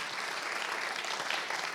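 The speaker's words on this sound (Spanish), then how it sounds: "Yo hubiera dado un fuerte aplauso ahí" A church congregation applauds during a sermon, producing a steady, fairly faint patter of many hands with no speech over it.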